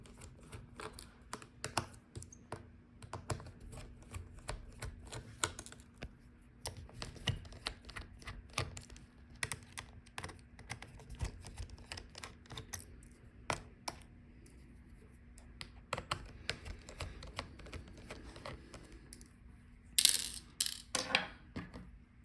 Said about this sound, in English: Unscrew all the screws.